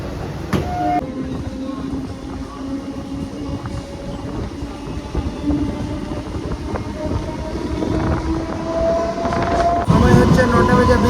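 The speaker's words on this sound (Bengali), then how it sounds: "আমাদের ট্রেন এখন ছেড়ে দিল নবদ্বীপ স্টেশন থেকে" The Kolkata–Radhikapur Express pulls out of Nabadwip station. A low, steady rumble of rolling wagons and faint rail clatter runs throughout, with a brief horn-like tone near the start and the noise swelling slightly toward the end.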